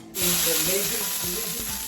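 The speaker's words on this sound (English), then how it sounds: "See how it bubbles and sizzles like that? That's when you know your pan is hot." Water hits a hot pan and breaks into a loud, steady sizzle, crackling and hissing up close with bubbling pops throughout.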